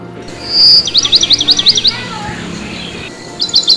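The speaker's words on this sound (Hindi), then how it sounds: "ये पंछियों की चहचहाट तो मेरे दिल को खुश कर गई सुबह सुबह" Morning birds at a Hindu temple, a bright, rapid series of high chirps trilling close by, then a short burst again after a pause, over a faint background hum.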